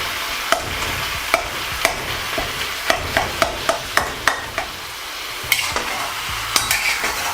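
Lamb keema frying in oil in a karahi while being stirred, a steady sizzle punctuated by repeated sharp metallic scrapes and taps of the spoon against the pan at an irregular rhythm.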